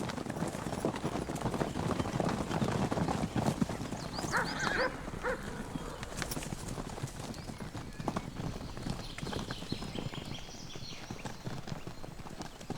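Konik ponies, a small, powerful Central and Eastern European horse breed, run across open ground with a steady flurry of hoof clip-clops, and brief whinnies and neighs rise above the drumming.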